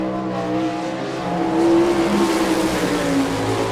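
A sprint race car on the All Star Circuit of Champions track in Rossburg, Ohio, roars through a qualifying lap, its engine drone loud and steady with pitch rising and falling as it passes.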